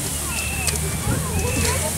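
Ice cream mixture is stirred with liquid nitrogen, giving a steady, dense sloshing and churning hiss close by with faint wet gurgles throughout.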